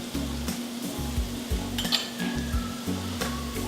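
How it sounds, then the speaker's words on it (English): Garlic and Dijon mustard sizzle steadily in a skillet beside a prime NY steak, with close rhythmic clinks and scrapes of a utensil against the pan over the constant frying hiss. "in goes the garlic, in goes the Dijon mustard"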